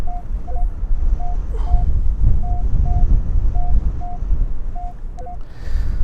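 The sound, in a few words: strong wind on the beach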